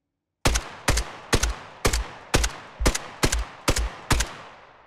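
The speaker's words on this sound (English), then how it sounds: "the gunfire sounds more realistic as there is more natural variation in the sound being played" Gunfire from the Krotos Weaponiser plugin with randomized timing, nine sharp loud shots in an evenly spaced sequence, each with a short decaying tail, heard alone without talk.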